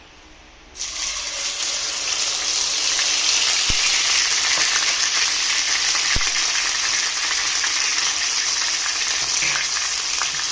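Garlic ginger paste is dropped into a hot pan for chicken curry and bursts into loud, steady frying that sizzles close up, broken by a few faint clinks. No one talks.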